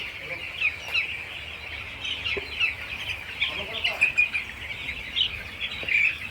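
A dense chorus of meat chickens clucking and cackling continuously at a poultry farm, busy and close, with faint background noise.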